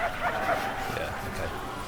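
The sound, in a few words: dogs barking in video game Prison Architect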